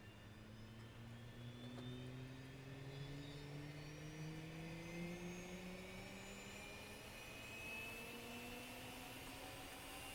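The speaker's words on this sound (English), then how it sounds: "we are hearing those engines start to spool up" Jet aircraft engines spool up in a Cold War-era combat flight simulator game, a steady whine slowly rising in pitch over a constant roar for about ten seconds, with no voices.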